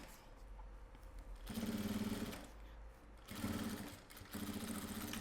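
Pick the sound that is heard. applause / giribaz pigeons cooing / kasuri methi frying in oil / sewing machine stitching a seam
sewing machine stitching a seam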